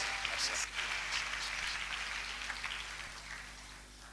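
A church congregation cheering and clapping in praise, a dense, even wash of applause that slowly fades, with no clear voices standing out.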